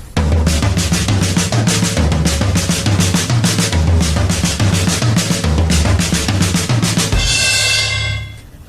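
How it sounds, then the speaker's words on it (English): Drum kit played with the left hand crossing over the right onto the floor tom, a dense, loud run of rapid hits with steady low booms, ending in a ringing cymbal wash that fades out. "This is the left hand crossing over the right"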